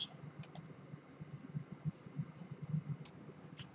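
Mouse clicks and light keyboard taps while working in dental CAD software, reducing a crown design; soft, close, scattered clicks at an irregular rhythm with no talking.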